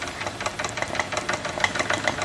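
Wilesco D24 model steam engine running steadily, with a fast, rhythmic mechanical chuffing and light knocking, close up and fairly quiet, with no voices.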